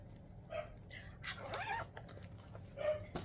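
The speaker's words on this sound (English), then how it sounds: "My husband's in the bedroom with the dogs, so I'm sorry right now if they're being really noisy." Several dogs shut in a bedroom yip and bark in short bursts, faint and slightly distant, with a few whimpery calls mixed in under background room sound.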